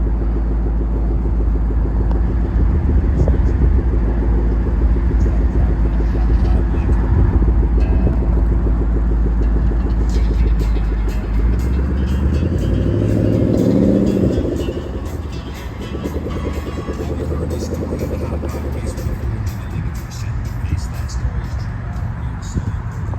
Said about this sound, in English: Here we have a Mustang. Sounds great.